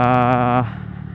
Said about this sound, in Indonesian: teman-teman biar bisa denger apa knalpot dari 54N nya